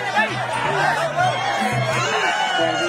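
A crowd cheers at a Thai boxing match, a loud, continuous hubbub of shouting voices with a commentator talking over it.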